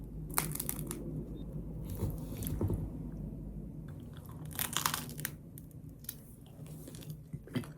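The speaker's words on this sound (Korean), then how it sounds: "뭔가 이때까지 먹었던 까눌레보다 겉에가 조금 더 바삭하고 조금 더 두꺼운 느낌?" Someone bites and chews a crispy canelé pastry with a crunchy crust, giving close, loud crunches and crackles in irregular bursts, with no talk.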